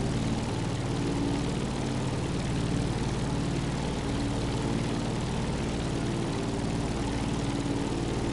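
An airplane's propeller engine in the racing game Motorfest drones on steadily, a dense, even buzzing hum that holds at a constant level throughout with no break.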